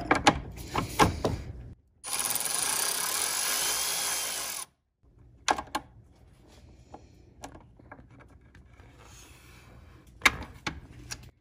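A power driver spinning out T25 screws that hold the radiator in a BMW 135i E82 N54, one sustained whir of about three seconds between sharp clicks and clanks of tools and parts, no talking.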